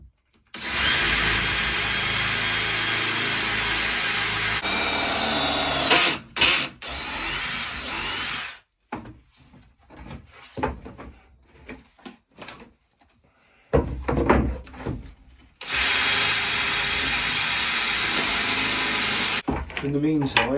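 Battery cordless drill boring through timber during narrowboat shower work, in loud sustained bursts of whirring broken by pauses, clunks and handling noises.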